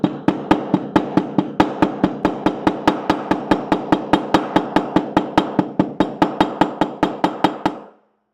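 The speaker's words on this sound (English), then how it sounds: "That thing will get flatter than a quarter just with a little bit of hammering" Steady hammer blows flatten the end of a winch line laid on a table, about thirty sharp, evenly spaced metallic strikes, close and loud, ending abruptly with no talk.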